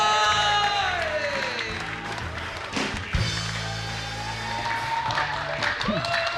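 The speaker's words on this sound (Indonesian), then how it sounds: "Oke, tepuk tangan semuanya." Audience applause and cheering at a televised Indonesian comedy show, a steady wash of clapping running under music and voices throughout.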